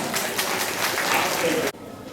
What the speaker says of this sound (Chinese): 好，我们就为他们拍掌。